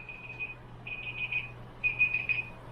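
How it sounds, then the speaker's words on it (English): A kitchen timer goes off while fried chicken strips cook, giving faint, high electronic beeps in short clustered runs over a low steady hum. "So my timer's gone off for my chicken strips."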